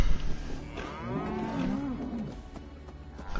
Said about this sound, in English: I milked the cow.